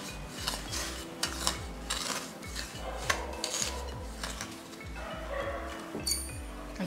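Salt being mixed into tapioca starch (polvilho) in a bowl for pão de queijo: a utensil scrapes and clinks against the bowl in quick repeated strokes, close and moderately loud.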